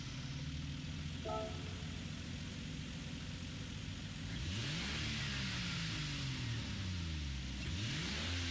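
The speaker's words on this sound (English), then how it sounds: "They're not fully revving up the 2JZ engine." A Toyota 2JZ engine in Gran Turismo 7, starting as a steady idle hum and then revving up and falling back in rising and dipping sweeps, heard alone with no talk.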